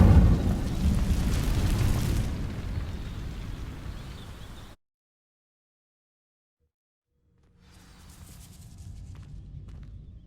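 The Incendio fire spell burns dry vines in Hogwarts Legacy, producing a loud rushing roar of flame that fades, cuts to silence, then returns as a quieter crackling burn.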